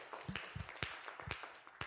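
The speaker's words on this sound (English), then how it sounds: "A round of applause for him, please." A small audience applauds at an inventors' forum, giving scattered, uneven claps at moderate distance that sound thin and sparse rather than a full ovation.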